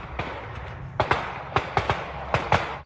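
Gunshots crack out in an irregular volley of about eight to ten sharp reports, some in quick pairs, moderately loud and slightly distant over a background hum.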